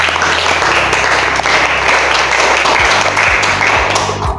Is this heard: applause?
yes